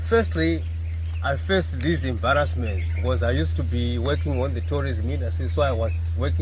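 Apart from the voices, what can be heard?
No everyday noises stand out.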